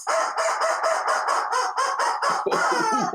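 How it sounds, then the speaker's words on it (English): A rubber chicken toy squawks in a rapid series of loud, honking bursts, close and alone with no talking over it. "And the rubber chicken says,"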